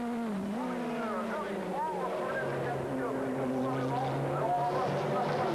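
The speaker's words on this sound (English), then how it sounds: "Now we're on board with Mike Hasemans, our race leader." Onboard engine of a race car in an FIA GT race, a droning engine note rising and falling through gear changes under a commentator's voice, fairly faint and continuous.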